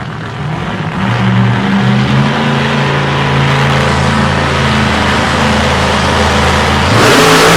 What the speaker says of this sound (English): getting a nice burn on his tyres there in the 63 split window